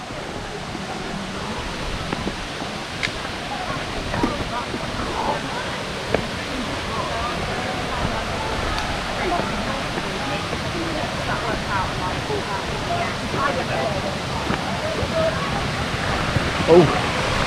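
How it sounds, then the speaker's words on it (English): Steady broadband rush of a waterfall, a continuous, even roar that stays constant throughout with no clear breaks, heard alone without talk. "Chase waterfalls."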